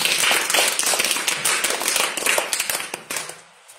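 A school audience at a quiz show styled on Kaun Banega Crorepati claps for a child called to the hot seat, a loud burst of many hands that thins out and stops near the end.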